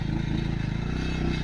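Motorcycle engine on a mountain road, a continuous low rumbling putter with steady rhythm, close and moderately loud.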